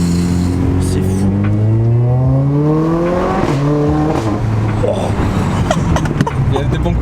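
Tuned Mercedes A45 AMG exhaust, loud and close, rising through revs and then letting out sharp crackles and pops as it shifts gear, with voices talking over it.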